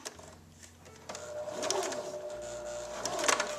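A sewing machine stitches a denim doll skirt with the presser foot down, a steady mechanical whir starting after a quiet second and running close and fairly soft to the end, with small clicks along the way.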